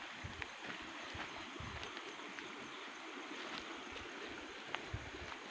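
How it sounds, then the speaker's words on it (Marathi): River water flows steadily in a broad, continuous rush, with a faint, even hiss and occasional light splashes close by, alone without voices. "हे बघा, पाणी दिसेल तुम्हाला, एकदम वाहता पाणी आहे"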